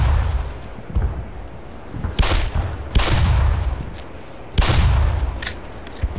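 A few separate, loud gunshots crack out in Black Mesa Source as the player fires at mines on the Surface Tension level, each one followed by a short tail over a low rumbling background.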